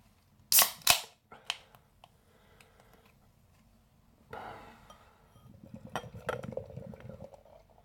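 A beer bottle cap, on a NorCal West Coast IPA, pried off with a sharp metallic pop and clink, followed moments later by a soft fizzing hiss and then beer splashing and gurgling as it is poured into a glass.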